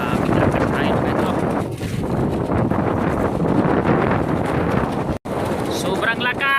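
Strong wind at sea buffets the microphone in a steady, loud roar with brief dips, heard from a small fishing boat out on the water.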